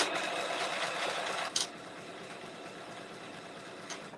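A serger sewing machine runs at a steady fast whir, close and continuous, with a brief knock partway through.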